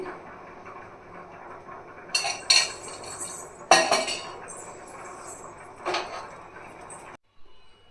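A metal pan set down on a home kitchen stove with sharp clanks and clinks of cookware and utensils, a few separate knocks spread across several seconds over quiet room noise, for a chicken gravy.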